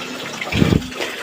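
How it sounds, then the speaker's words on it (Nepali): Water gushes into a village water tank in one short, loud surge under a constant background rush, outdoors and close by. "ट्याङ्की पनि पानी पसिरहेको जस्तो छ"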